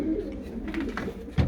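Pigeons in a breeding loft coo softly and repeatedly, fairly close, over a low steady background hum.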